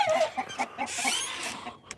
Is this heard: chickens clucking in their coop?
yes